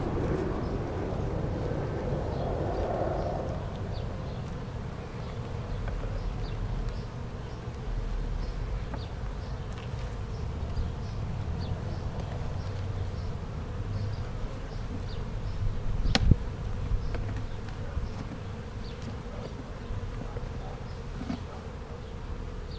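A dense, continuous buzz of many honeybees at an open hive fills the air close by, steady throughout with a soft thump partway through.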